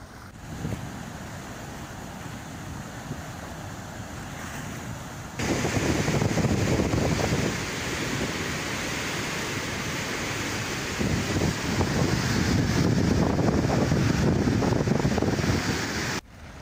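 Water roars through the opened gates of the Madamsilli dam in a dense, continuous rush that grows louder after a few seconds and stays heavy, with no talking.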